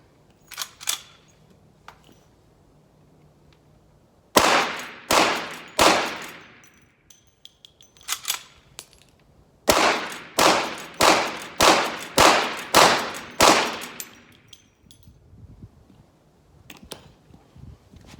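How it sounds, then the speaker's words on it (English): Rapid shots from a Winchester 1873 lever-action rifle chambered in .357 Magnum, fired at a target 30 feet away: sharp, loud cracks in quick strings of three, four and about seven, with short gaps between strings and faint mechanical clicks. "Let's make it 30 feet from the target with these buckhorn sights and see if I can get several rounds off on target in a quick fashion."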